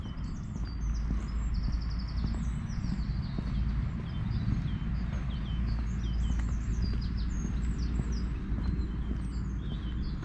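Small birds chirp and tweet in short repeated calls over a steady low rumble on a pleasant morning beside a canal mooring, with a faint hint of a distant car.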